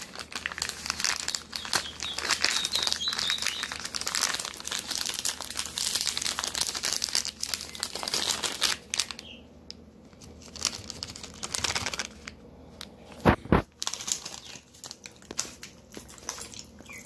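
A plastic package of vegan plant-based gummy bears crinkles and tears open at the top notch, close and crackly for several seconds, then a few sparse rustles and a sharp rip near the end, with no one speaking.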